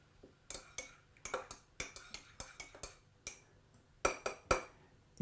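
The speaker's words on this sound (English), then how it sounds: "give it a stir." A spoon stirs a tea bag in a mug of freshly boiled water, clinking against the ceramic in a quick, fairly regular run of bright taps, close and fairly quiet, with no voices.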